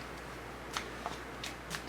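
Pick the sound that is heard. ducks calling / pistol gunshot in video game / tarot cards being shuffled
tarot cards being shuffled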